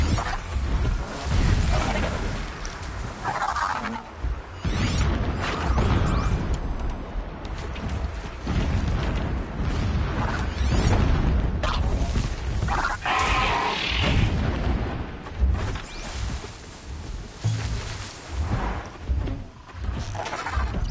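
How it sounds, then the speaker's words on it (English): Distant explosions rumble in Horizon Zero Dawn on very hard difficulty, several deep booms rolling in irregularly over a busy game soundscape. "explosions in the distance."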